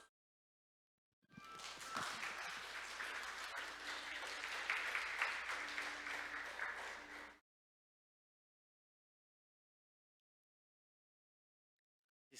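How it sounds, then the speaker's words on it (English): Warm audience applause welcoming a speaker at a maritime conference, a dense steady wash of clapping from a crowd lasting about six seconds, then cut to silence. "Let's welcome him in with a warm round of applause"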